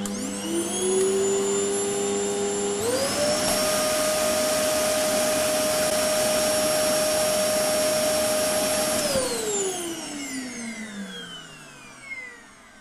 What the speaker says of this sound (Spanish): Para limpiar el polvo del suelo empleo la aspiradora.